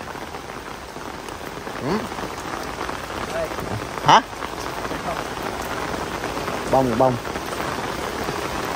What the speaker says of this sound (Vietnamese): Thì giờ chiều thì trời mưa quý cô chú anh chị.